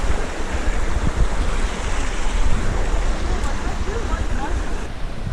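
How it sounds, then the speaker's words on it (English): A small waterfall on a creek beside a hiking trail, a steady loud broadband rush of falling water that stays even throughout, close by and with no talking. "that's a beautiful little waterfall. Really nice creek."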